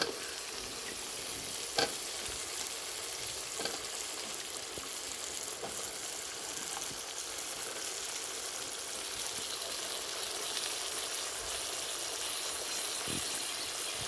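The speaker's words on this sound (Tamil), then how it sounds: "அது எல்லாத்தையும் போட்டு வதக்கிக்கிடுவோம்" Steady frying sizzle from a pan, with occasional scraping clicks as the vegetables are stirred, continuous and fairly close.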